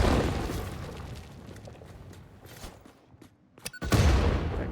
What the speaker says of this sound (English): let's also blow up some nature